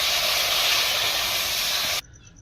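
Steady loud hiss and steam as water is poured into a hot pan of mustard curry for eggplant and hilsa fish, sustained for two seconds then cutting off abruptly to quiet.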